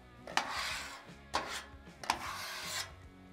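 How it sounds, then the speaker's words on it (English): A metal scraper rasps across a Blackstone griddle, clearing leftover steak residue in three or four distinct scraping strokes, each opening with a sharp clank, close and fairly quiet with no talking. "I'm just gonna give it a good scrape just to get some of this stuff off from the steak"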